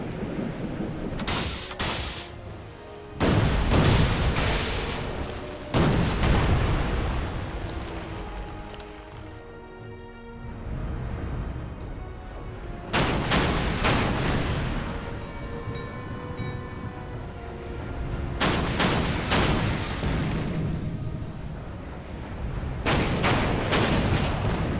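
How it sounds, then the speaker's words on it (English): During a naval torpedo attack in the strategy game Order of Battle Pacific, heavy booming explosions strike in separate bursts between calmer stretches of rumbling, mechanical game sound. "How about a nice torpedo run?"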